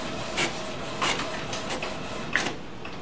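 An HP Officejet Pro 8620 printer's document feeder pulls a page back in and flips it, making a steady mechanical whir with a few soft rolling thumps of paper over it.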